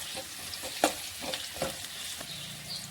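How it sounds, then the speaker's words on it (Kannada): Curry leaves crackle and sizzle in hot oil in a pan for a rice seasoning, with a steady hiss broken by a few sharp spatula scrapes as they are stirred close by. No voices. "ಇದು ಚೆನ್ನಾಗಿ ಒಂದು ಸ್ವಲ್ಪ ತಿರುವಂಬ್ರಿ, ಚಂದಕ್ಕೆ ಎಣ್ಣೆ ಒಳಗೆ ಫ್ರೈ ಆಗಿ"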